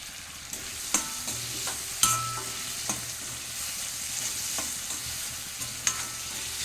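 Stirring pickle in a frying pan, with soft scraping and occasional clicks of a utensil against the pan over a steady low sizzle.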